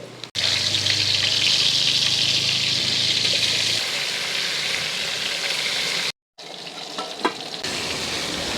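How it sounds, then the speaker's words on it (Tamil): Chicken frying in hot oil crackles with a loud, dense, close-up sizzle that runs for several seconds, breaks off briefly, then resumes a little quieter with scattered pops. "நம்ம இதிலே சிக்கனை போட்டு பொரிச்சிக்கலாம்"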